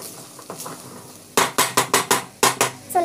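A spoon clanks and scrapes repeatedly against a pot while upma is mixed, a quick run of loud, evenly spaced metallic knocks after a quieter start.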